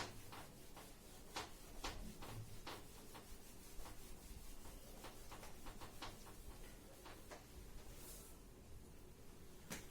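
Writing being rubbed out on a classroom board, a faint, steady scrubbing and rubbing that runs continuously for about ten seconds, with light irregular taps and scuffs and no talking.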